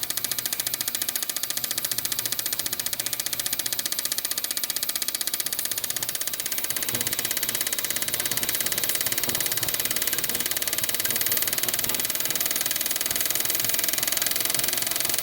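An LS-swapped 1957 Chevy engine runs through an acceleration test, a loud, continuous mechanical drone with a knocking texture that starts slow and climbs steadily, and no voices over it.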